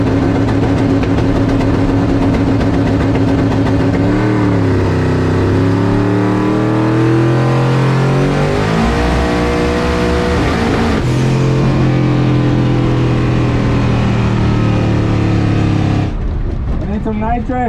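The Mullet race car's engine revs and accelerates at high altitude, loud and close, its pitch climbing in stretches before cutting back, with a person talking over it.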